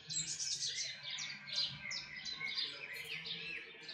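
Small birds chirp and tweet in quick repeated phrases outdoors in farmland, fairly faint and steady over a low rumble of wind and distant farm machinery.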